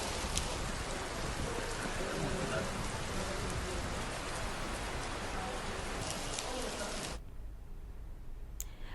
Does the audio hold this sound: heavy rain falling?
yes